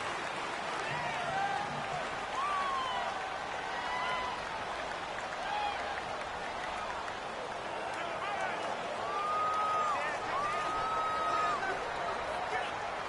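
Stadium crowd noise from the video game Madden 19 in a simulated Washington Redskins versus Tampa Bay Buccaneers football game, a continuous loud roar with whistles and cheers, with commentary voices running over it.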